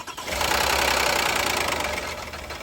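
A Toyota Kluger that has sat unused for years catches and runs, its engine settling into a rough, knocking idle, loud and close, with no talk over it.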